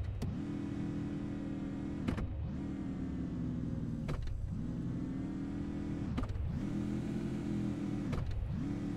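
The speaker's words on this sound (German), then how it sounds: "Jetzt müsste gleich noch einmal wieder dieses Fahrzeug kommen mit diesen komischen Aliens" Alien vehicle arriving in the Invasion 2037 video game, a steady droning engine hum that swells and dips in repeating cycles about every two seconds, with sharp clicks between the cycles and no voices.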